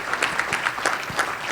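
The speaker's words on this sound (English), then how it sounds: "Another quick round of applause for Chris." Audience applause at a commercial real estate conference forum, a steady clatter of many hands clapping together for a presenter, close and fairly loud with no voices over it.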